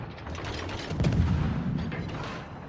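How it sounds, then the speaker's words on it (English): The cruiser Admiral Kutuzov fires its main guns in the naval game World of Warships: a heavy boom rises out of a steady roar of battle noise and then rumbles away, loud and alone. "Admiral Kutuzov can even fire his guns here without being detected."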